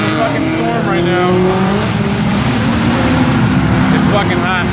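A car driving along a road on a hot summer day, a loud continuous engine and road noise with rising and falling gear tones, with voices talking over it.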